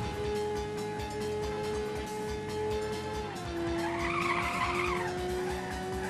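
Car tyres squeal and skid steadily while drifting in Ridge Racer Type 4, over a constant engine drone and game music, the screech swelling louder near the end.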